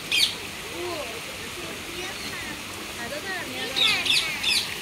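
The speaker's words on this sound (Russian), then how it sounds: "красивая птичка, да?" Birds chirp and tweet in short, bright bursts at a bird park in Kuala Lumpur, with one call near the start and a cluster toward the end, over a steady outdoor wash and a faint murmur of background activity.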